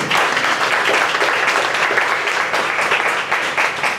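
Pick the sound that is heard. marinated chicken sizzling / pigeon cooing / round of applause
round of applause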